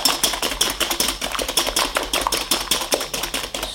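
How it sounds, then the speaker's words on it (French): Eggs and sugar beaten by hand with a whisk in a bowl, a fast, steady clatter of quick strokes close up with no talking. "on va tout simplement venir mélanger notre mélange, fouetter pour que le sucre et les œufs"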